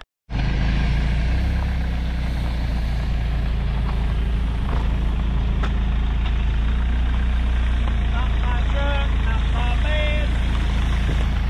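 A Ford F Super Duty shop truck with a swapped 7.3 Powerstroke diesel driving, its engine droning loud and continuous close up with road rumble, while people talk over it.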